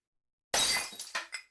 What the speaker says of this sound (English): till we break the glass